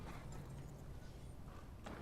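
Hooves of a zombie horse mount in Elder Scrolls Online, a soft steady clip-clop of trotting footfalls, fairly quiet and continuous with no talk.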